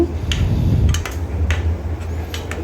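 Chickpea curry being stirred in a pot after curry leaves and coriander are added, giving a few light metallic scrapes and taps of a spoon over low kitchen background noise.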